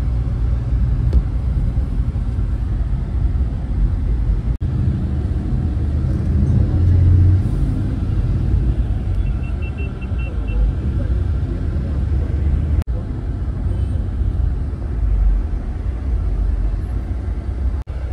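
A new Shiv Rameshwar Travels bus drives through Mumbai near Bandra after leaving Borivali, its engine and road noise a steady low rumble throughout, with a voice faintly present beneath.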